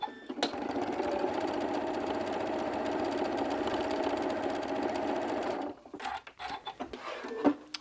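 A sewing machine stitches scrap fabric strips for a quilt block in a steady, close mechanical chatter lasting several seconds, then stops, leaving a few soft handling clicks and thumps.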